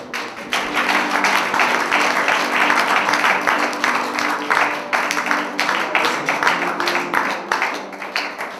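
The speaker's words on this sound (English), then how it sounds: "I want you to clap your hands and give it." A church congregation claps their hands in a steady, dense burst that lasts throughout, with some music or voices faintly underneath.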